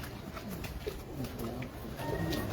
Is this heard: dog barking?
no